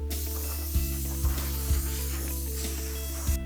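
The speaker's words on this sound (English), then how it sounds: "it's time to blow the dust off this board" Compressed air blasts dust off a wooden cutting board freshly sanded to 220 grit, a loud continuous hiss near the mic, overlaid on a steady machine hum with a few short bumps.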